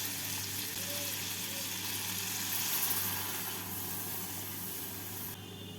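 Milk being stirred into a frying mixture for cheese prawns in a pan, a steady soft sizzle with faint stirring, continuous and close, with a low steady hum underneath and no talk.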